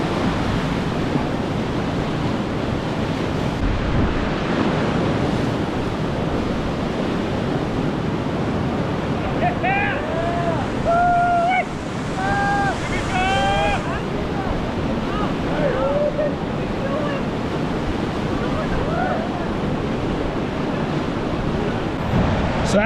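River wave whitewash at a surf spot in Pueblo, Colorado rushes steadily and loudly throughout, a dense roar with wind buffeting the microphone and faint tonal squeaks partway through.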